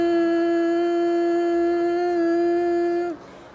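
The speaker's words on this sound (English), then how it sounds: "you make a humming, buzzing sound like this" Humming bumblebee breath exhale: one steady, loud, close nasal hum held for about three seconds on a single pitch, then cut off abruptly, with no speech.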